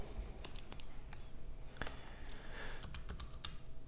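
Numbers are typed on a calculator keypad as a quiet, irregular patter of light plastic key clicks, some in quick bursts, heard close against a faint background hiss.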